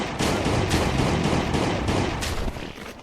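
An unmodified Glock in the game Last Day on Earth fires in a fast, dense string of shots that holds steady for a few seconds, loud and close, with no one talking.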